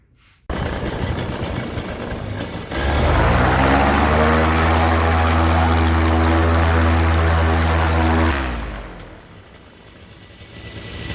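A Vittorazi Moster 185 paramotor engine starts up, then roars loudly and steadily at close range for several seconds before cutting back to a lower idle.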